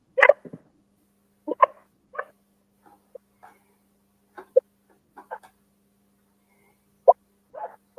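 A dog gives a series of short, separate barks and yips spaced irregularly over several seconds, fairly close and moderately loud, with a faint steady hum underneath.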